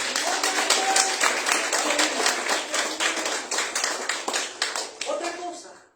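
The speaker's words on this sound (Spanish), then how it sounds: "Denle un aplauso fuerte al Señor." A church congregation breaks into a long burst of clapping, dense rhythmic applause with some voices mixed in, fading out at the end.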